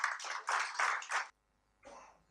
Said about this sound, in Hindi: आप सभी से अनुरोध करता हूं कि इनके इस अथक प्रयास के लिए तालियों से एक बार उनका स्वागत कीजिए